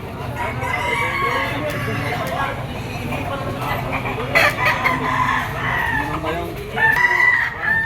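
A young gamecock stag crows at a busy open-air livestock market in Padre Garcia, Batangas. Clucking and other fowl are mixed in, and vendors talk loudly the whole time.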